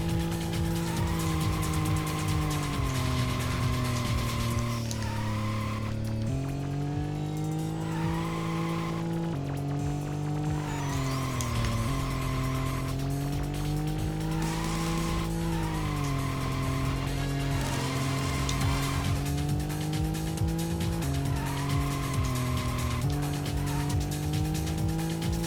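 Race car in the video game Racing Lagoon driving a test course, its engine droning steadily and loudly with rising and falling pitch through gear shifts, downshifts and tire squeal, continuous throughout with no talk.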